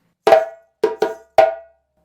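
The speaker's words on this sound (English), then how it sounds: "The first note is the flam, slap. So 2 hands doing the slap, then a short pause and 2 tones, and then 1 more slap" Djembe phrase from the Guinean Fakoly rhythm: a flam slap struck by both hands, a short pause, two quick tones, then one more slap, close and loud with no talk.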